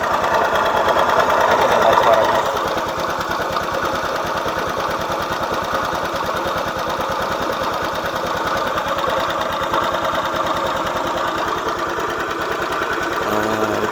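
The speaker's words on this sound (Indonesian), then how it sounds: "Sepeda motor Honda Beat ada suara berisik pada bagian CVT ya." Honda Beat FI scooter engine idling steadily with a rough, noisy CVT, a continuous close mechanical drone with rattling texture that is slightly louder for the first couple of seconds.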